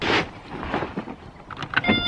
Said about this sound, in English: Those buttons that close and open the back of cars, one option I would always get with a car.